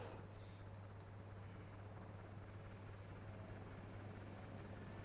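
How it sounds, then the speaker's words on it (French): An Apache attack helicopter in the military game ARMA 3 passes overhead, its rotor giving a continuous low droning thrum at steady, moderate loudness with no speech. "Je crois que c'est exactement le même hélico que j'ai shooté"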